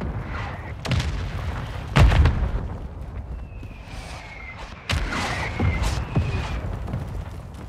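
A grenade goes off in the Call of Duty DMZ video game with a few heavy booms and crackling blasts amid ongoing gunfire and game ambience, moderately loud with no voices.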